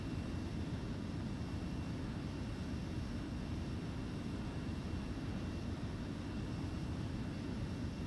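F-4B jet in flight in the game ArmA 3, heard as a steady, loud, unbroken engine roar that holds constant for the whole stretch with no voices.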